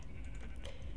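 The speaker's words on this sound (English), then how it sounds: "Is that pink sheep?" A pink sheep in the Minecraft video game bleats once, a short nasal call standing out faintly over a steady low background hum.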